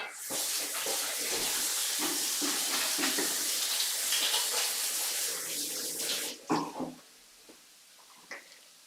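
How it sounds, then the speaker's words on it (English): Tap water runs steadily into a kitchen sink as hands are washed under it, a close, broad rushing that stops abruptly, followed by a few faint clatters and drips. "I just wash my hands a minute."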